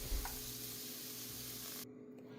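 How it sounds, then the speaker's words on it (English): A steady close hiss of carrots, onions and celery sautéing in a hot pan, cutting off abruptly near the end. "I'm going to saute what's left of the carrots, onions, and celery"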